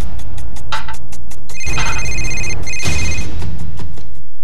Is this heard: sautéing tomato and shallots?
no